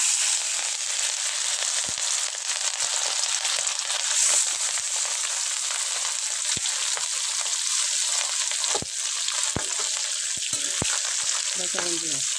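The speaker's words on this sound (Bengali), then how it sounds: "আর মাছগুলি আমি ফ্রাই করে নেব।" Rohu fish pieces rubbed with turmeric and salt fry in hot oil in a pan, giving a steady, bright, close sizzle broken by occasional clicks and taps of stirring.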